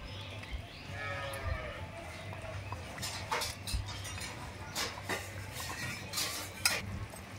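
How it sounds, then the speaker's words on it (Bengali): Fried fish being stirred into curry in a pan, with repeated metal scrapes and clinks of a spoon against the pan over a low background hum, close and moderately loud. "মাছগুলো দিয়ে একটুখানি নাড়িয়ে দেব, তাহলে মাছের মধ্যে ঝোলগুলো ভালো করে ঢুকে যাবে।"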